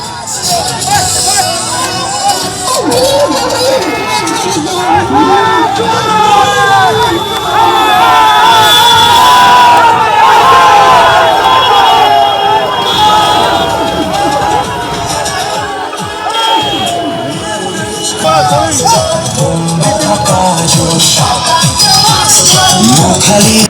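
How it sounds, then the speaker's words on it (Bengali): Large protest crowd surrounding Saokat Molla, loud continuous shouting and chanting of slogans with dense babble and cheering, sustained throughout at close range. "তখনও তাকে ঘিরে ধরে বিক্ষোভ, এমনকি চোর চোর স্লোগান উঠলো"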